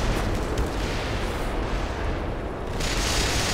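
Grenade blasts in the first-person shooter Black Mesa, played on hard mode: a loud, continuous roar of booming explosions and rumbling debris that fills the whole span, briefly thinning near the end before surging again.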